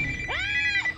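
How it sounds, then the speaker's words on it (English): A phone ringtone sounds during a Resident Evil Village game, a single loud electronic trill that sweeps up and holds bright tones for about a second, with no voices. "Whoa. That's my phone."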